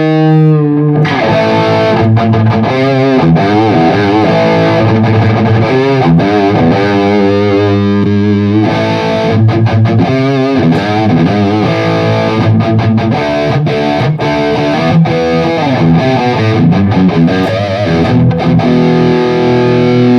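Electric guitar through an ENGL Powerball 2 amp with the gain turned up: heavily distorted, thick riffing with chugging palm-muted passages and ringing chords, loud and continuous, no voices.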